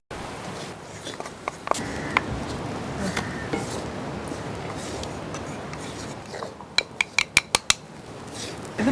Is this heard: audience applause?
no